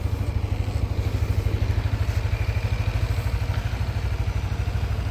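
A Yamaha NMAX 155 scooter engine idles with a steady, even putter, its low rhythmic chugging holding constant throughout with no other sounds.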